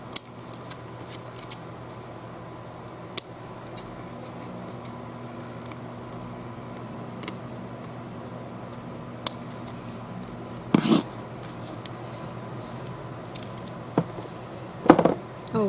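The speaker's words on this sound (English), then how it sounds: "now I'm just gonna snip the excess off" Scissors snip excess paper off a recycled Christmas card, giving sparse, quiet, close cuts scattered over a low room hum, with a couple of louder snipping bursts near the end.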